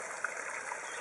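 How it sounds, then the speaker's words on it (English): Water gushing steadily in a stream and small waterfall at a backyard koi pond with plants, a constant broadband rush with no pauses, close and moderately loud. "Got a stream and a waterfall"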